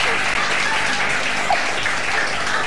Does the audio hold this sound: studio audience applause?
yes